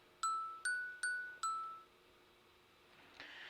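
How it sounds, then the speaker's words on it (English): Minecraft note block bell melody: four bright, ringing bell tones played in a steady, syncopated sequence, each decaying quickly, followed by a faint rustle near the end. "So this is what the bell sounds like."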